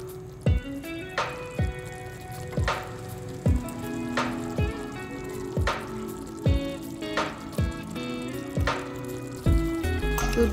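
Fried katla fish pieces are dropped into a bubbling curd gravy in a pan, giving repeated sizzling splashes at a regular rhythm over a steady simmer, close and fairly loud.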